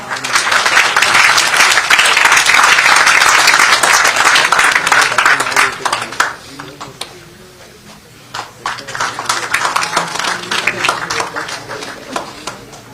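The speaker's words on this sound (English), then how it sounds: "So let us welcome once again this MoU signing with a round of applause." An audience applauds an MoU signing with loud, dense clapping for about six seconds, then it fades to scattered claps and voices before a second smaller burst of clapping.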